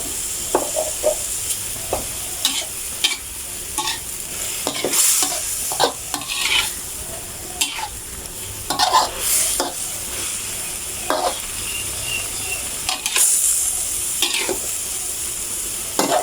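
Chicken giblets stir-fried with chili in a pan, a continuous close sizzle with frequent quick clattering scrapes and tosses of the spatula throughout, no voices.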